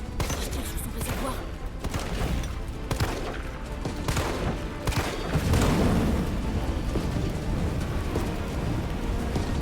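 Rapid video-game gunfire from Resident Evil 3 aimed at a monster's tank, a dense continuous barrage of shots and booms layered over game music and effects, with someone talking at times.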